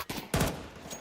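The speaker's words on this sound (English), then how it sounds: "This time it's Sapek at range with that MP9." An MP9 submachine gun fires in Counter-Strike, giving a couple of loud close bursts of rapid shots within a second, with no talking.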